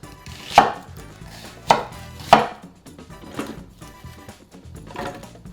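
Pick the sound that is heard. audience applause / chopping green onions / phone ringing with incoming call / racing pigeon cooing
chopping green onions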